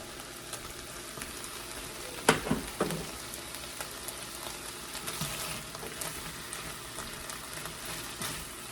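Mushrooms fry in butter and oil in a pan with a steady, soft sizzle, punctuated by a few sharp clatters of stirring near the middle.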